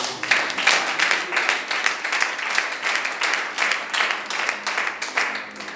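A church congregation applauds and acclaims Jesus, steady dense clapping filling the room with cheering voices mixed in, continuing evenly throughout.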